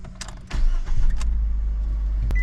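A car with a 203,000 km engine starts off and pulls away on the road, with a few door and body clunks at first, then a steady close engine hum that builds as it gets going, no voices.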